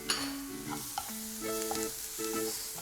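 Mushroom stuffing seasoned with chili flakes, black pepper and garlic powder fries over high heat as it is stirred, a close crackling sizzle with a few quick spoon scrapes against the pan, no voices.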